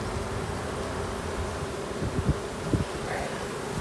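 Honeybees buzz around an open hive during a spring inspection, a steady low hum of fanning and flight with a few brief louder passes near the end, and no talking.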